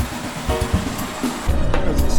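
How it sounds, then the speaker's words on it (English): A stream in the countryside between Hue and Da Nang, Vietnam, rushes steadily with a broad, continuous watery wash that swells slightly louder toward the end, with no talk over it. "Okay, it's a stream."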